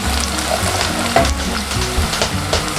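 Thai market-style fried rice noodles (pad mee) stir-fried in a pan, with a steady close sizzle of hot oil and irregular scraping and tossing of the spatula against the metal, no talking.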